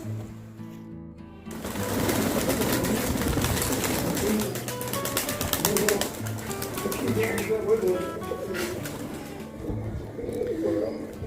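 Kalsire high flyer pigeons, a king-size breed, coo in a steady low murmur close by, with someone talking over them almost throughout.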